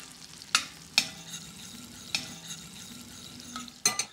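Butter sizzling in a hot pan, a low steady frying hiss broken by several sharp clinks and scrapes of a utensil against the pan, close by and without talk.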